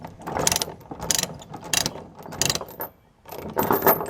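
Ratchet load binders are cranked while chaining a tractor down on a trailer, giving several bursts of rapid metallic clicking separated by short pauses, close and fairly loud with no talk.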